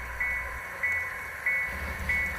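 Model railroad cars in a KCS yard move along the track with a low rumble, while four evenly spaced electronic beeps sound over the steady mechanical hum.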